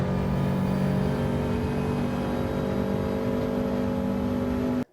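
Race car engine from Gran Turismo 7, a Gr.4 car lapping the St Croix Layout A circuit, holds a steady loud drone under power through a corner, then cuts off abruptly at the end.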